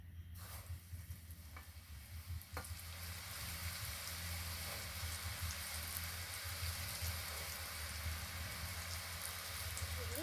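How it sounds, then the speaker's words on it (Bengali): Pata pitha frying in a pan of hot oil, giving a steady, dense sizzling hiss that continues evenly throughout, close up, with no voices. "একইভাবে বাকিগুলো ভেজে নেব।"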